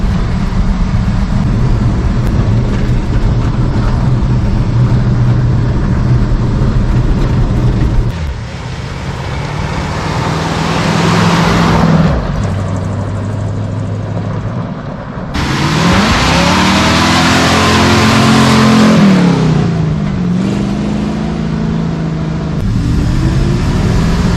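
A 1966 Chevy C30 dually truck, running with no bed on the back, drives roughly; its loud engine note climbs and falls through gear changes in steady surges with no talk over it.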